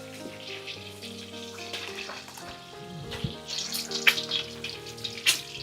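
Eggs frying in a pan in a home kitchen give a steady, close sizzle with light clatter and a few sharp spatters, and no voices.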